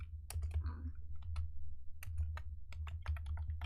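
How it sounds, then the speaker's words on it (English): Rapid clicking keystrokes on a computer keyboard come in quick irregular bursts, close and clear over a low steady hum. "can you let me type?"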